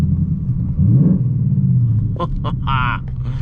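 A deep, loud engine rumble from a Mustang GT's axle-back exhaust, steady and throaty, with a brief burst of voices and a whistle-like sound near the end.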